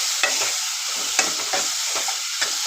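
Tomatoes fry in a pan for a green gram saagu, a bright constant sizzle overlaid by repeated spatula scrapes and taps at an uneven rhythm, close and clear, with no one speaking.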